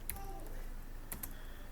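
Keys clacking on a computer keyboard as HTML code is typed, a few quiet, sharp clicks spread over a short stretch with no talking.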